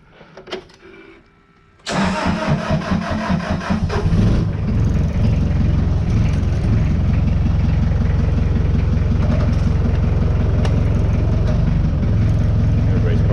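A forklift engine cranks and catches after a moment of talk nearby, then runs loud and steady, with a low rumble close by as the machine backs up.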